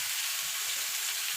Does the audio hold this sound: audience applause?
no